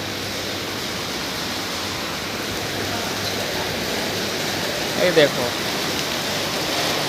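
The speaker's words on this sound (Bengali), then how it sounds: "আর বাইরে দেখো প্রচণ্ড পরিমাণে বৃষ্টি হচ্ছে এখন।" Heavy rain pours outside in Malaysia, a steady dense hiss of water that stays even throughout, with a voice speaking briefly near the end.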